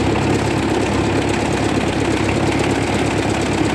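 A 1958 Oliver 550 diesel tractor runs in first gear, its engine a loud, steady, close-up chugging drone with an even knocking pulse and no pauses.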